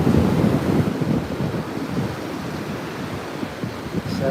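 Ocean waves breaking on the coast at Little Marley Rocks, a loud churning rumble of surf that swells early then settles into a steady wash, with wind buffeting the microphone and no talk.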